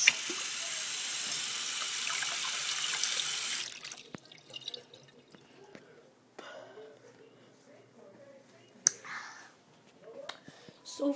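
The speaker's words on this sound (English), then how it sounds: "Watch this water run." Tap water gushes into a sink in a steady, fairly loud rush for about four seconds, then shuts off, followed by quiet whispery talk and small clinks.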